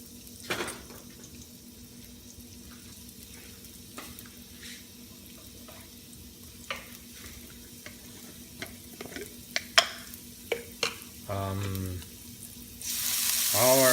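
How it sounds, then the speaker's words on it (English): Ginger added to hot olive oil for a squid and tofu stir-fry: scattered light clinks and taps in a quiet kitchen give way to a sudden, loud, close sizzle at the very end. "Now let's put some olive oil. Okay. We'll put our ginger."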